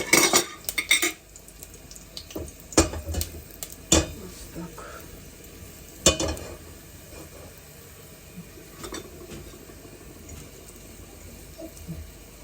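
Garlic sizzles quietly in a pan while a utensil clinks and scrapes against metal and a plate, with a few sharp knocks early on and softer stirring and scraping afterward.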